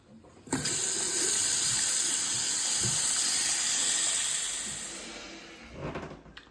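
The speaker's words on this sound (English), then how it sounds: "Let's go and turn the water back on." Water rushes through household plumbing as the supply is turned back on during a boiler repair, a loud steady hissing flow that starts abruptly, holds for several seconds, then tapers off before a few knocks and splashes.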